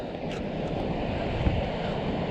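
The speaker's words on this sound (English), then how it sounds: "Big waves." Ocean surf rolls onto an Australian beach in a continuous broad wash, steady and fairly loud, with wind rumble over the microphone and a slightly stronger surge near the middle; no voices.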